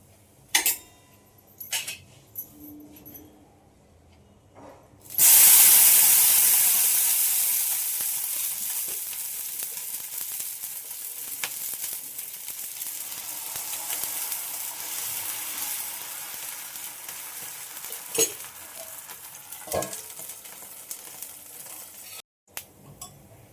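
Instant rice and flattened rice (avalakki) dosa batter hits a hot pan and bursts into a loud, steady sizzle that fades slowly, after a few quiet clinks of utensils, with occasional taps on top.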